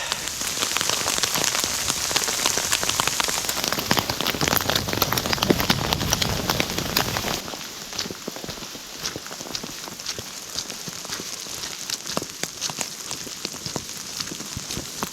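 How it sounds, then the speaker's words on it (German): Hail falling on surfaces in a heathland forest, a dense, loud clatter of pellets that drops to a lighter, steady patter partway through. "Und da haben wir den nächsten Hagel."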